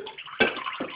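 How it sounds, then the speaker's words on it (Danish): Lukewarm tap water runs into a pot in a home kitchen, a brief splashing gush that rises sharply midway, then a second smaller splash close by. "Vi tager bare lidt mere lunken vand."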